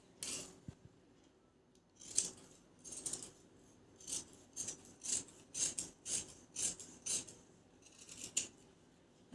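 Scissors cut blouse fabric in a series of crisp snips, quiet and close, arriving in a fairly regular run of cuts after a few scattered early ones, with no talking.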